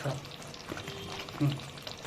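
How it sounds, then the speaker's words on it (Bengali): Bengali rohu fish curry in yogurt gravy with ghee and garam masala being gently mixed in a pan, a soft, faint sizzle with light stirring under a low voice. "এটাকে জাস্ট হালকা হাতে একটুখানি ভালো করে মিক্স করে দিতে হবে"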